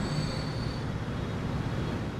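Steady low rumble of trains running along a railway in Transport Fever 2, a train-wheel roll with a faint high squeal early on, continuous and moderately loud with no talking.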